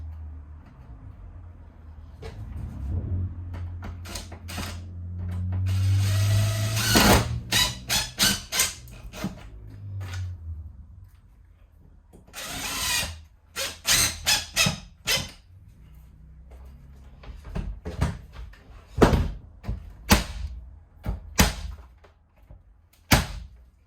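Screws driven into a glued wooden batten inside a 1978 Avondale Heron caravan, at the front bed locker, make close squeaky, creaking bursts, with longer strained squeals followed by rapid short clusters and no speech.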